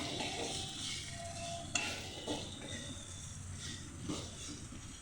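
Egg and potato fry being stirred in a pan, a spoon scraping and turning the mixture with soft sizzling underneath and a few sharper scrapes against the pan.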